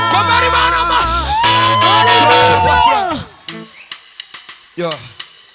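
A church congregation at a worship service finishes a sung chorus, then bursts into loud, rhythmic handclapping mixed with cheers and shouts of praise.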